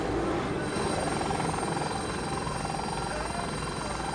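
A surveillance helicopter flies overhead with a steady, chopping rotor drone at moderate distance, and voices can be faintly heard beneath it.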